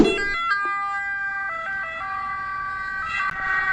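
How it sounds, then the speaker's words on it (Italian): An ambulance siren passes along a street in the Rancitelli area of Pescara, its two-tone wail loud and continuous, shifting pitch as it goes by. "Appena passata l'ambulanza, probabilmente andava a prendere qualcuno che sta male."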